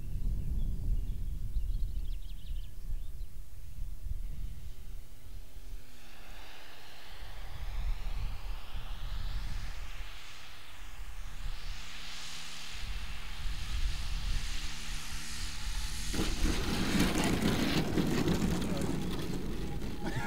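A 92-inch AJ Raven radio-controlled model airplane flies overhead, its engine droning with a pitch that rises and falls as it passes, swelling louder near the end, while people talk.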